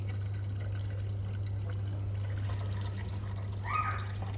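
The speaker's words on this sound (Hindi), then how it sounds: "ठंडा पानी डालते हैं" Cold water poured for lassi runs in a steady, soft stream over a constant low electrical hum, faint and even throughout.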